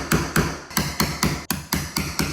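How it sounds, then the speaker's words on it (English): Rapid hammer-driven chisel strikes cut a recess in a door frame for a strike plate, about ten sharp, evenly spaced blows ringing out close and loud with no talk. "tidy it up with a chisel so we can actually stick the strike plate in"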